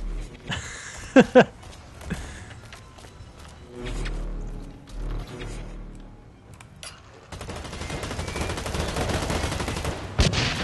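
Gunfire in the shooter game Blacklight: Retribution, a few sharp shots early on, then scattered rumbles and a sustained noisy stretch of action sounds near the end.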